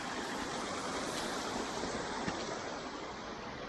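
A creek runs beside a muddy mountain hiking trail on a backpacking route to Helmet Falls, its water rushing in a steady, close, broadband wash that holds even for the whole stretch, with no voices.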